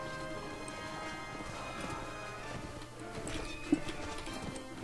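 Hooves of a galloping horse in Mount & Blade, rapid clip-clop over a busy battle din, with a brief loud knock near the end.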